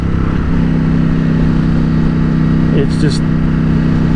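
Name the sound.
Aprilia motorcycle engine revving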